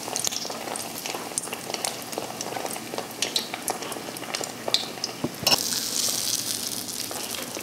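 Eggplant slices fry in a hot pan, a close steady crackle and sizzle with scattered sharp pops and spatters, growing denser and louder toward the end; no talk.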